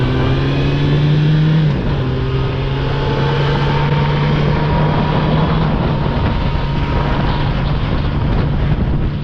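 Engine and wind roar from a Yamaha R1 superbike on the freeway, loud and constant, with a steady engine drone that shifts pitch once early on, no voices.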